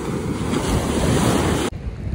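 Ocean waves roll onto a beach in Bali in a continuous loud roar of surf mixed with gusty wind buffeting the microphone, until the sound drops off abruptly near the end.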